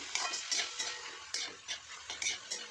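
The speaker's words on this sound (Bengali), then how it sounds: "বাঁধাকপি কড়াইতে মিশিয়ে নাড়াচাড়া করলাম" Cabbage is stirred in a wok with a spatula, giving repeated scraping and rustling strokes over a soft sizzle, close and without talk.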